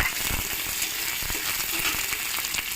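Dry red chillies, green chillies and onion fry in a pan with a loud, continuous hiss of sizzling oil and a few faint clicks and rattles underneath.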